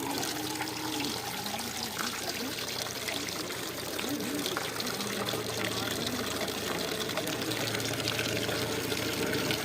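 Water pours steadily into a pot set out for a cow to drink, a continuous splashing gush that runs the whole time, with voices talking faintly over it.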